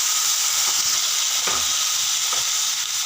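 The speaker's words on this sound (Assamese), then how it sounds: "এতিয়া ইয়াতে অকণমান পানী দিম।" Taro stolon (kochu loti) curry frying in a pan as a little water goes in, a steady close sizzle and hiss with a few soft stirring knocks, no voices.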